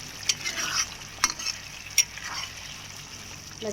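Jaggery being stirred into a colocasia tamarind curry in a pot: a soft, continuous wet scraping and gentle bubbling, with a few brief sharper clinks of a spoon against the vessel, close and moderately quiet.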